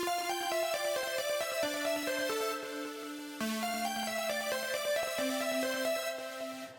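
Simple synth melody made in the Vital synthesizer with effects added: bright, layered stepwise notes over sustained lower tones, playing continuously and clearly with no voices.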